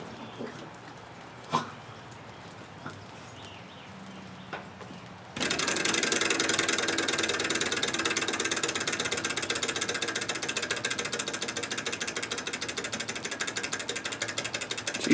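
A small candle-powered hot air engine with a flywheel, driving a rotisserie, starts after a few faint clicks and taps, then settles into a rapid, steady mechanical whirring and ticking close by.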